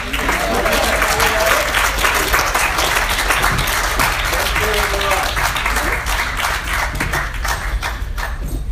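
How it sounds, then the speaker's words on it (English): An audience at an equestrian press conference gives a continuous, loud round of dense clapping that holds steady the whole time, with a little talk underneath. "could you give a round of applause"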